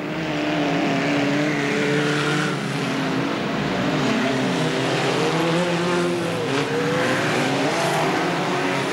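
BriSCA Formula 1 stock cars roar past on an oval track in Boston, England, in 1991, a loud continuous engine drone with rising and falling passes as the spread-out field comes through, no voices.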